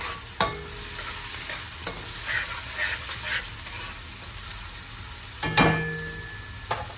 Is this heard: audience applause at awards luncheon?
no